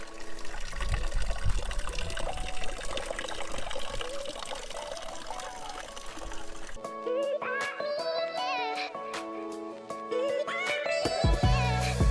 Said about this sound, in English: all temples, they provide this holy water to wash your hands before you enter the premises.